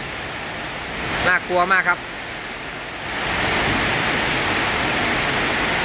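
A wind and heavy rain storm from a tropical depression lashes the front of a house in Surin, Thailand: a steady, loud broadband roar that swells stronger after a few seconds, with a voice briefly speaking over it.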